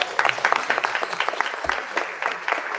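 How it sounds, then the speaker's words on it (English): Audience applause rings out at a live radio event, dense overlapping claps holding steady at moderate volume for the whole stretch, with no voices rising above them. "Clap it up for our sacred couple."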